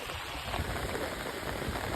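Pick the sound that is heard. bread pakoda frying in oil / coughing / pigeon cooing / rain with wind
rain with wind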